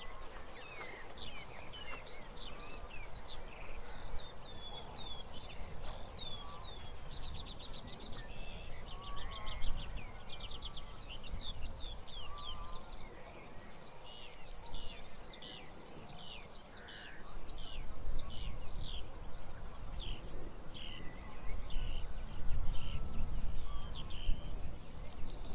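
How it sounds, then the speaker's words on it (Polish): Skylarks sing continuously in a lavender field on a spring morning, with many bright trilling phrases overlapping at moderate distance over a steady low outdoor rumble, growing slightly fuller toward the end. "Na razie posłuchajcie skowronków, bo to jest rarytas."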